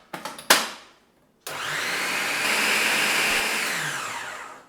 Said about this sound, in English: As the dry ingredients have all blitzed really well together and resembles the finest of crumbs